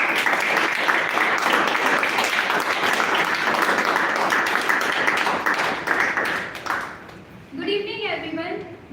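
A Toastmasters club audience gives a sustained round of applause, dense and loud clapping for about seven seconds before it tapers off and a voice begins speaking.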